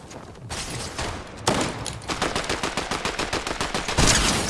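Gunfire in Fortnite, with a few heavy shots followed by a long rapid rattling stream of automatic fire, loud and close throughout.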